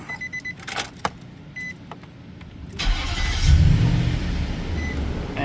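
A V8 car engine, freshly swapped in and firing on all eight cylinders, runs close by after a few clicks and a brief start, building into a steady low rumble that swells and holds.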